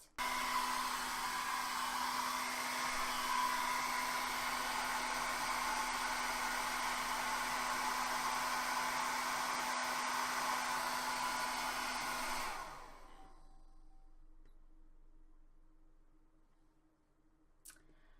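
A hair dryer blows with a steady, loud whir for about twelve seconds, then cuts off abruptly as it trips a surge protector, leaving near silence with faint residual hum.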